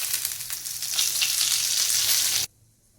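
Dried red chillies and curry leaves sizzle loudly in hot oil for a tempering for coconut chutney, a dense steady crackle that cuts off abruptly near the end.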